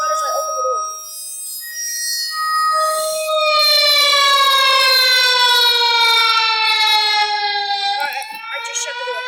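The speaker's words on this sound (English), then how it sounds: "the siren's going off" A tornado warning siren sounds outdoors, its long steady tone rising and sustaining loudly for several seconds with rich harmonics, while a person talks briefly at the start and end.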